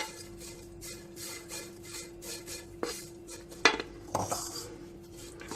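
Dried pieces of taro rattle and clink against a bowl in a few scattered bursts, close and fairly quiet, over a steady low background hum.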